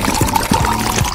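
Water glugs and splashes in uneven bursts as it pours out of a bottle, loud and close, with no talking over it.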